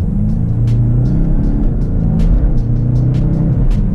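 A remapped 285 hp Golf GTE engine pulls hard and loud out of a corner, its revs building steadily with clicking and ticking sounds scattered over the rumble.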